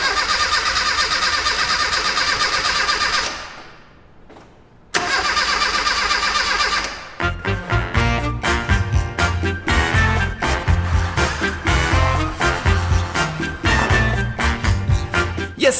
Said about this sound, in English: the classic Mini won't start. Well, okay. It won't start when it's cold.